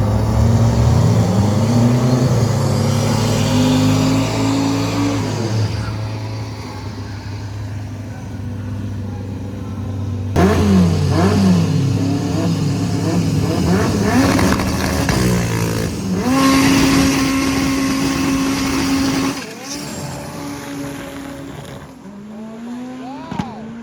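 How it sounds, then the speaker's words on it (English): A Freedom Civic Honda drag car at a drag strip event revs loud and close, engine notes rising and falling through several surges, with a sustained high-pitched run near the end and no speech. "Jamie and Brent are up right now with the Freedom Civic"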